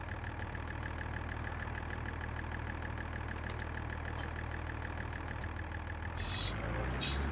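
A farm tractor idles close by with a steady, even engine rumble and a faint whine for about seven seconds, and a brief rise in noise comes near the end. No one speaks.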